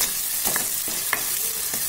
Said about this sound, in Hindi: इसे भी हम अच्छे से पका लेंगे और तेल छोड़ने तक हम मसाले को पकाते रहेंगे